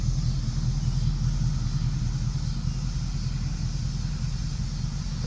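Low, steady rumble of a 2019 Ford Mustang GT V8 running an X-pipe exhaust while driving through the city, heard from inside the cabin as a continuous drone with no talking.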